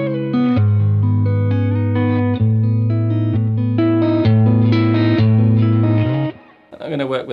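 A distorted electric guitar plays a math rock riff with a borrowed chord, sustained chords moving steadily, loud and close with effects, before cutting off near the end.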